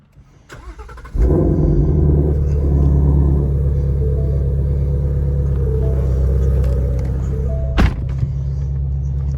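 A Shelby GT350 engine fires up after a brief rattle, then settles into a loud, steady rumbling idle with a slight rev near the end.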